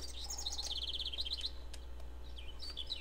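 Bird chirping in the video game MegaMan Legends, quick high tweeting trills in short bursts over a steady low hum, with no talking.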